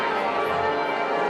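Bells ring at a school prize day gathering, a sustained tonal ringing with lingering overtones that fills the whole moment, steady and fairly loud.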